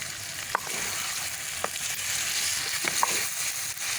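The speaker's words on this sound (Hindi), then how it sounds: "चिकन की अच्छी तरह से हम बुनाई करेंगे" Chicken fries in a karahi over a wood fire, giving a continuous close sizzle with a few sharp scrapes and knocks as it is turned, and no talk.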